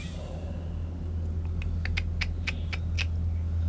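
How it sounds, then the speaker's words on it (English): A cat meows in a quick series of about eight short, bright calls, close by, over a steady low hum of background noise. "I also heard the cat"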